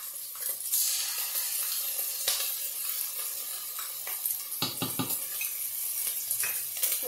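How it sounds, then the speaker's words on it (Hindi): Chicken frying in a little oil with ginger garlic paste, giving a steady close sizzle broken by repeated scraping and clinking of a spoon against the pan. "व्यूअर्स आप लोग देख रहे हैं चिकन फ्राई हो रही है"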